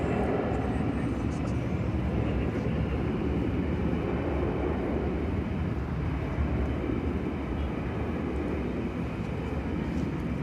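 Qantas airliner at DFW Airport at night, a steady broad jet engine roar that holds loud and constant throughout, with voices faintly mixed in.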